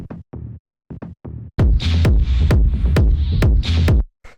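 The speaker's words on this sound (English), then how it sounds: "the last layer inside of the low end group here are these bass percussions" Punchy low bass percussion hits from the low end group of a techno remix, a few sparse dry thumps followed by a dense, loud run of booming strikes with bright transients, no voices.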